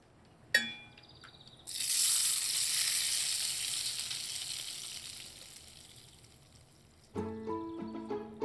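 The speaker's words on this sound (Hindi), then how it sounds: "जब ये तड़के में चटर पटर की आवाज आने लगे ना," Spices hit hot oil for a tadka with a loud, steady sizzle and crackle that slowly fades, framed by a few clinks of metal utensils.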